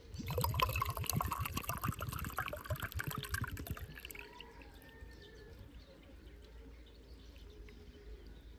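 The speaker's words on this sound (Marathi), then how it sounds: "आता ह्या नारळाचं पाणी बघू किती निघतं." Coconut water poured from a coconut into a metal pot. It starts as a close, gurgling stream for a few seconds, then thins to a faint trickle.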